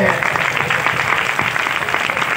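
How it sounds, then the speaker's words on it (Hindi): A congregation at a church service claps loudly in a steady, rapid rhythm, mixed with voices throughout. "ताली मारो जोर से"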